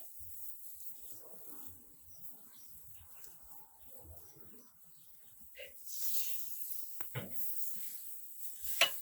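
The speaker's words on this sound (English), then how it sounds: "So I'm just trying to sear the steak at this moment in time." Steak searing in a hot pan gives a faint, steady hiss that swells louder partway through, with occasional scrapes and knocks as the meat is moved around.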